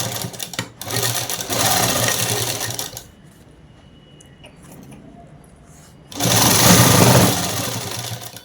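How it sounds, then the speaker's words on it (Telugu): A sewing machine stitching a shirt runs in two steady, loud whirring bursts, with a quieter pause of low handling noise between them. "ఇప్పుడు కుట్టు అనేది వేసేసుకోవాలి"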